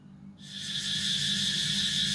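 Cicadas at dawn in Thailand start abruptly from near silence into a dense, steady high-pitched buzzing chorus that holds evenly, moderately close, with no talk.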